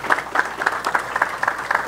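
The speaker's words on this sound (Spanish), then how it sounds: "Un aplauso para el ingeniero Carlos Lozada" A short burst of audience applause at a roads forum, a small crowd clapping in quick uneven rhythm, close and moderately loud.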